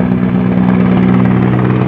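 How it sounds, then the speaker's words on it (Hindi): Helicopter passing overhead at night above a village, a steady loud rotor drone with a strong low hum, continuous throughout with no talking. "भाई रात में पहली बार देखा हेलीकॉप्टर यार"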